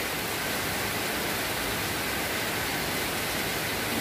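Heavy rain pours down on New Year's, a steady, dense, broadband hiss with no letup, moderately loud and unbroken throughout, with no voices over it.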